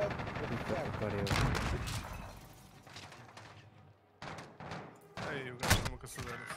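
Bursts of gunfire crack out in a fast-paced Warzone match, several shots in quick clusters mixed with busy background noise and some talking.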